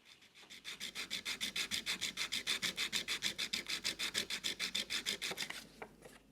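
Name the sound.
steel block plane part being lapped on abrasive paper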